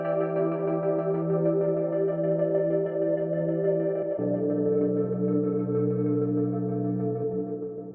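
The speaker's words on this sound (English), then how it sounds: "This second sound is a modified stock operator preset" A sustained synth pad from a modified stock Ableton Operator preset called Light and Shadow holds a rich harmonic chord, shifts to a lower chord midway, and fades slightly at the end, played alone.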